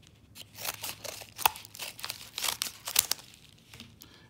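Paper envelope holding a trading card being handled up close, with crinkling and rustling in uneven bursts, a few sharper crackles standing out, no voices.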